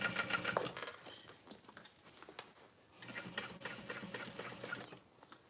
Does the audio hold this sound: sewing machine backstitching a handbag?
yes